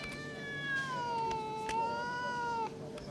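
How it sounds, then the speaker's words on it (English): A cat in a vet's waiting room gives one long, drawn-out meow that slowly falls and wavers in pitch, clear and nearby over a faint room hum. "There's a cat and a parrot."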